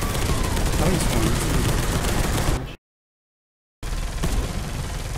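Sustained gunfire from Space Hulk Deathwing, a dense continuous barrage of shots that cuts out abruptly to silence for about a second, then resumes just as loud.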